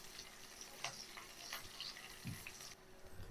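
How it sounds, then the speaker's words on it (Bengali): Chopped onions fry in a pan on an infrared cooker, giving a faint, soft sizzle with light stirring scrapes throughout the short stretch. "পেঁয়াজটা লাল লাল করে ভেজে দেব।"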